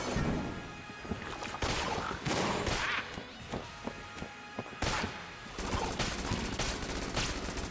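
M1 rifle gunfire in a modded Enter the Gungeon game, loud rapid volleys of shots and impacts with brief gaps, busy and dense across the whole stretch.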